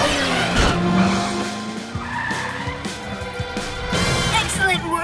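The cartoon Cat Car from PJ Masks speeds off with squealing, skidding tires and a revving motor, loud and close, layered under action music and cartoon effects.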